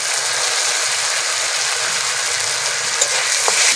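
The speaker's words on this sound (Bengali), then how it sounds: "মশলাটাকে ভালো করে ভেজে নেব তেল ছেড়ে আসা অবধি" Spice paste frying in oil in a pan for potato curry, a steady, close, loud sizzle with no break and no voices.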